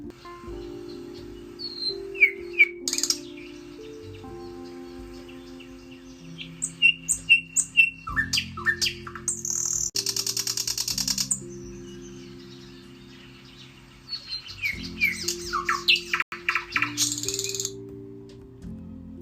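Birds singing at sunrise, with bright chirps, trills and short tweets in scattered bursts over sustained musical tones, fairly close and lively throughout.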